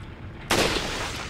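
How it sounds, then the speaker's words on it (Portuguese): A single rifle shot in the Resident Evil 4 video game, a sharp sudden blast followed by a lingering noisy tail over quiet background. "Gastando munição de rifle"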